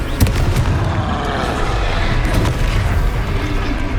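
Rapid magical blasts from the Confringo fire spell in Hogwarts Legacy, a dense run of booming explosions with sharp cracks layered over a constant loud rumble, no pause between impacts.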